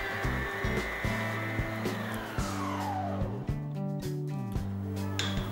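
Electric hand mixer whipping egg whites with vanilla sugar: a steady motor whine with pitch shifts and repeated bumps of the beaters against the bowl.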